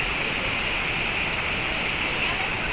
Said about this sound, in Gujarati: એવો મસ્ત પાણી ખડખડ ખડખડ જાય છે ને